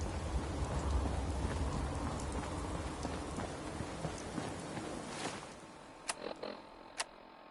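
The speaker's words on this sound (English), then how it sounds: "Just thinking how wonderful it would be to get out of this infernal rain." Steady rain falls in the Fallout 4 video game, a dense hissing patter that thins out toward the end, leaving a few sharp isolated ticks.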